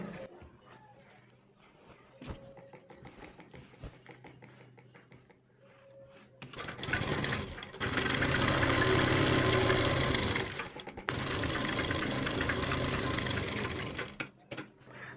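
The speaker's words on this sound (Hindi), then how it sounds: "उसके बाद हमने दूसरी साइड में सिलाई लगानी है।" A sewing machine stitches a seam on an Afghani salwar. It is quiet and intermittent at first, then runs in loud, steady bursts with one brief pause partway through. No one speaks.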